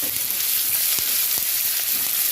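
Onion and tomato frying in a pan while being stirred, a steady loud sizzle with occasional soft scrapes of stirring and no talk.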